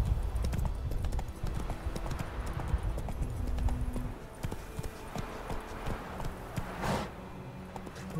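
Roach the horse trots in The Witcher game, a steady rapid clip-clop of hooves running through the whole stretch, moderately loud, with a brief louder swell near the end.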